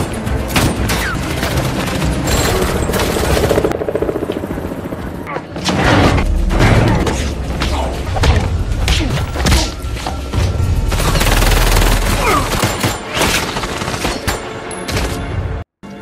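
Gunfire from a shootout in an action movie: dense, loud bursts of shots and heavy thuds run almost continuously, with a voice speaking underneath at times.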